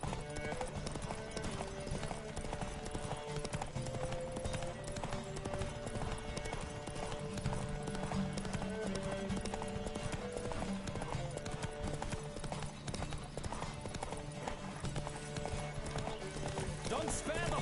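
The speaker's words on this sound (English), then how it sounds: "Don't spare the horse!" Horse hooves galloping in The Witcher 3: Wild Hunt on PS5, a rapid continuous clip-clop rhythm with occasional neighs, under steady game music and intermittent speech.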